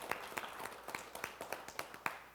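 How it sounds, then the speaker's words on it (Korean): A small audience at a Buddhist dharma talk claps in a quick, even rhythm, about a dozen sharp, faint claps in a row with no voices over them. "여기도 한번 박수 한번 쳐줘봐요."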